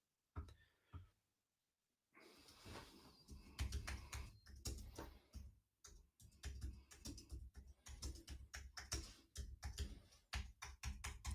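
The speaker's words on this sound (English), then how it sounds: "You hear me typing." Rapid, uneven clatter of computer keys typing in bursts, close and clear, with a brief pause early on.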